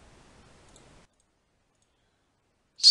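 A single sharp computer mouse click lands near the end, alone after a stretch of near silence and faint low hiss, while playing an online Magic: The Gathering match in XMage.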